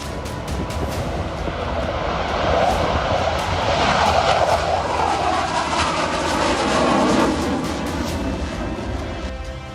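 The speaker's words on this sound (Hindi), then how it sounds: "बहुत जल्द स्वदेशी लड़ाकू विमान तेजस दुनिया भर के आसमानों में दहाड़ने वाला है" An Indian-built Tejas single-engine fighter jet roars overhead, a loud, continuous broadband rush that swells and eases over several seconds.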